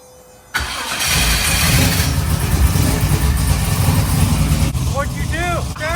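A carbureted car engine catches abruptly after a short quiet moment, then runs loud and steady at close range, rising and falling with revs, while voices come through faintly in the background.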